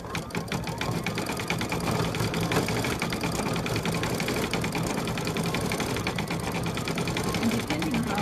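An embroidery machine sews a heavy satin stitch around an appliqué letter J, a steady, fast mechanical chatter running unbroken at close range, with some faint background noise underneath.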